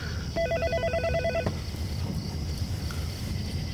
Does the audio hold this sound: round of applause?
no